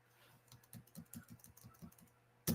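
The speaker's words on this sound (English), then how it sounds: "let me type this in" Quiet typing on a computer keyboard, a steady run of about a dozen light key taps ending in one sharp louder press.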